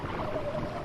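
A Basilosaurus in the game Ark Survival Evolved lets out a low, drawn-out tonal whale call with a slightly wavering pitch, heard alone over a murky underwater rumble.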